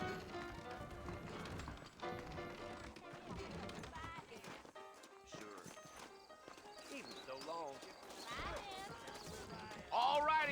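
Horses' hooves clip-clop in Red Dead Redemption under music and a speaking voice, with a whinny rising near the end.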